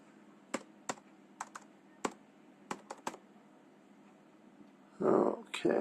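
Password keystrokes on a computer keyboard during a Windows 8 preview program install: about a dozen sharp, close clicks in an uneven rhythm over a quiet room hum, then a brief louder burst of noise at the end.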